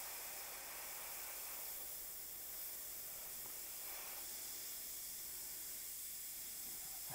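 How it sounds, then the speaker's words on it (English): An airbrush hisses steadily as it sprays paint onto a model, a faint, continuous airy spray that holds for several seconds with no voice over it. "you'll know where to hit the airbrush. So like now, with this fella, I can just go straight in."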